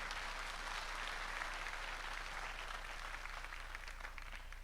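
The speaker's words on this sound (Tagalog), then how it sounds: "Malakas na palakpak para sa Panginoon." A church congregation claps for the Lord during a healing service, a steady wash of applause that stays faint and distant for the whole stretch with no voices over it.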